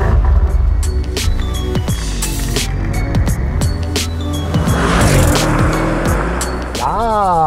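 Audi RS6-R wagon with ABT tuning, its engine roaring loudly and steadily from close by, ending in a rising rev near the close.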